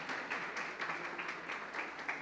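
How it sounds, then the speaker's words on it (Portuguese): Faint, sparse clapping from a church congregation at a Sunday service, soft and brief, with scattered hand claps and no one talking. "esses papais merecem uma salva de palmas?"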